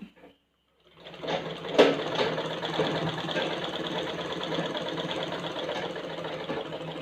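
A sewing machine stitches semi patiala pants, its motor whirring in a steady, busy run that starts about a second in and carries on without pause, close and fairly loud.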